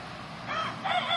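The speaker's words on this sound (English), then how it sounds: "See, there's another one of the hens." A hen on a homestead clucks and croaks in a short, close burst over faint outdoor background noise, with no talk.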